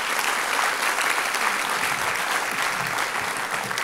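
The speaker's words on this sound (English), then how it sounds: "Let's give her a big applause." A conference audience applauds as a guest is welcomed on stage, a steady, full clapping from a large crowd that lasts several seconds without letting up.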